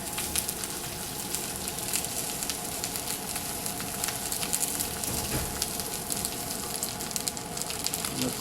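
Half-inch Brussels sprout slices sizzle in a stir-fry pan for a seafood and chicken stir fry, a steady, dense crackling hiss with fine popping spatter throughout, close and even in level.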